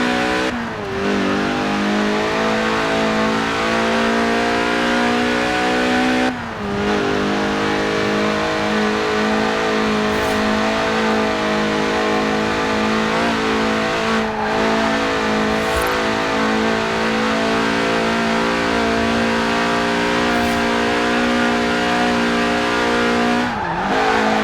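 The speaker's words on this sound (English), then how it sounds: "Yes, that's it. The honourable art of drifting." A high-revving car engine in Forza Horizon 4 screams continuously while drifting, its pitch rising and falling with shifts and brief drops over a long stretch.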